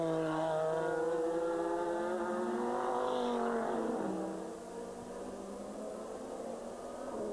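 GT race cars roar around the Enna Pergusa circuit, several engines layered at a distance with a pitch sweep as one passes, then a fainter steady hum, heard alone.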